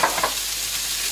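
Chopped onions frying in a pan: a brief, steady hiss of sizzling with a couple of soft stirring scrapes at the start.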